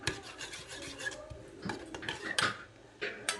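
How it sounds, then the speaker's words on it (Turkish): A spoon or whisk scrapes and clinks around a bowl while egg yolk sauce is stirred for a soft bread-roll glaze, giving uneven rasping strokes with a few sharper taps, close and fairly quiet. "Sosumu güzelce karıştırıyorum."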